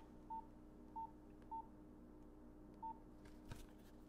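Beeps from a classic Nokia mobile phone playing the built-in Dice game: four short, evenly pitched tones spaced unevenly apart, faint over a low steady hiss.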